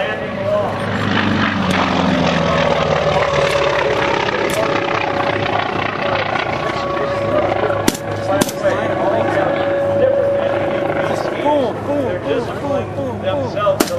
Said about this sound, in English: Beautiful job of the T6 is coming in.